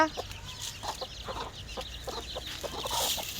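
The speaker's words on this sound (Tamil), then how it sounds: "இவங்க வந்து அடக்கோழிங்க, முட்டை இட்டு முடிச்சுட்டு இருக்காங்க" Brooding hens that have finished laying give a steady stream of soft, overlapping clucks close by on a farm, with faint bird calls in the background and no talking.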